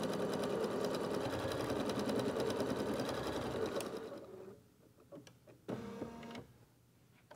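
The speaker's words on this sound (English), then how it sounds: "This stitch sequence is tacking your cuddle fabric down to your stabilizer." An embroidery machine in the hoop tacks cuddle fabric to stabilizer with a fast, rhythmic whirring chatter, then slows to a few scattered stitches and mechanical clicks.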